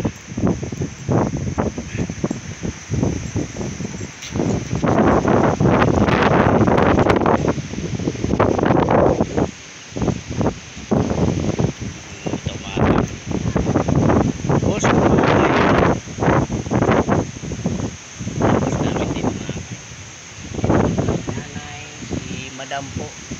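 Strong wind gusts in Naic and buffets the microphone with heavy rumbling roars that rise and fall. Someone talks over it throughout.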